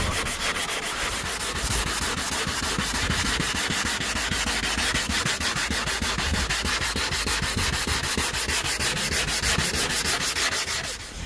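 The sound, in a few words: sanding car headlight with sandpaper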